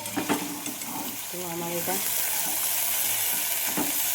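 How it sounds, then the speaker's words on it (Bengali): Poppy seeds frying with only salt in a pan, giving a steady broadband sizzle throughout, close and moderately loud, with brief speech over the start. "শুধু নুন দিয়ে পোস্ত দিয়ে ভাজা হবে"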